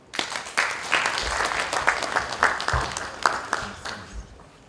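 Following a lecture at an army officers' workshop, the audience applauds: a swelling round of clapping with distinct sharp claps punctuating the wash, fairly close, building quickly and then thinning out toward the end.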